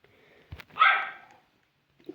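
A single dog barks once nearby, a short, sharp yelp following a soft thump, then quiet with a faint noise at the end.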